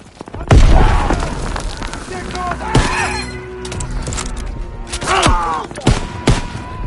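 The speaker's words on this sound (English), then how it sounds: "Grenade out!" A grenade blast in a PS4 shooter game, a sudden loud boom followed by ringing debris and scattered explosions and gunfire, with voices calling out between the blasts.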